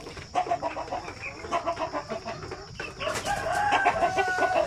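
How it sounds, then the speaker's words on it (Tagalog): Native chickens clucking in a rapid, busy chatter on a farm, with a rooster crowing loudly over them partway through, all close by. "yung mga native chicken na inalagaan natin"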